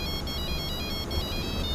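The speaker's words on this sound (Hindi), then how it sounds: "भाई, तुम्हारे फोन पे कोई फोन कर रहा है।" A phone ringtone signals an incoming call, a bright repeating electronic melody in short pulses, loud and alone with no talk over it.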